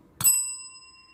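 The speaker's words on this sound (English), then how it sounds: "Ring the bell, Pam." A single bright bell ding rings out once, struck sharply and left to ring with a clear, slowly fading tone in an otherwise quiet room.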